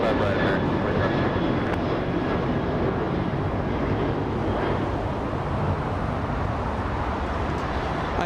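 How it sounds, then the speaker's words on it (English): An Alaska Airlines jet bound for Puerto Vallarta takes off at Los Angeles International Airport, a loud, sustained engine roar that stays strong and steady from start to finish without any break. "there goes Alaska Airlines flying to Puerto Vallarta, Alaska 1348"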